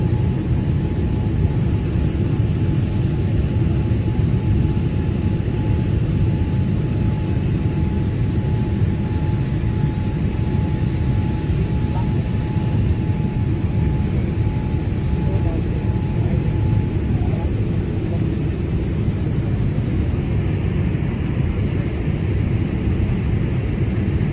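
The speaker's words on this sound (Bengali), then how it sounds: "বিমান ল্যান্ডিংয়ের সময় এবং বিমান উড্ডয়নের সময় তো আপনারা দেখতে থাকুন" Inside a passenger airliner during landing, a loud, steady roar of engines and airflow fills the cabin continuously, with a faint tonal whine underneath that fades near the end.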